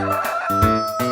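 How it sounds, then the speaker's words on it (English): A rooster crows in a short, loud, tonal burst with a few rising and falling pulses, close and alone with no talk. "Rooster."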